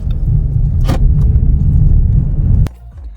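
A 2020 Dodge Journey on a test drive after a hub assembly and wheel bearing repair gives a loud, steady low road rumble, with a brief scrape midway and a sharp click before the noise drops off.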